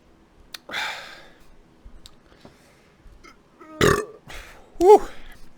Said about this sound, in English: I got to give that burp about a... That was like a 3 out of 10.